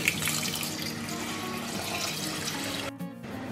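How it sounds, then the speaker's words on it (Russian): Clean water, 570 ml of it, pours steadily from a tap or vessel over 600 grams of washed rice in a cooking pot for a chicken pilaf, a continuous close splashing rush with a brief dip near the end. "600 граммов риса заливаю 570 мл чистой воды."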